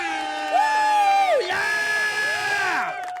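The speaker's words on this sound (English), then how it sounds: "You get some applause for that." A canned cheering sound effect with an air horn blares on a talk show, a crowd whooping and yelling over long, sustained horn tones with shifting pitch.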